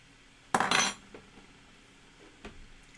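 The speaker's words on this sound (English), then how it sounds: "just going to bring this pan over" Metal pan being moved in a kitchen while making stuffed mushrooms: one sharp metallic clatter and scrape, then a few faint knocks, near and otherwise quiet.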